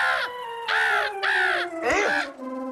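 Crows caw about four times in a harsh, evenly spaced series, loud and close, in a scene from a Hindi comedy TV serial.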